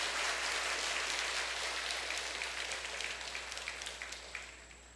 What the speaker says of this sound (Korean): 박수로 한번 격려 좀 해주시죠.